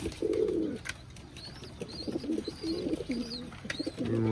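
High-flying pigeons from Khulna coo repeatedly in soft, rolling bursts, several calls overlapping close by against a faint background.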